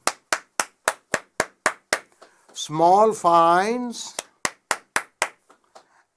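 A single person's sharp, evenly spaced hand claps ring out close and loud for university entrepreneurship challenge award winners, pausing while a voice announces a name, then resuming in the same steady rhythm.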